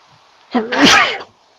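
A single loud, close sneeze with a sharp in-breath buildup followed by a burst, heard alone against a quiet background.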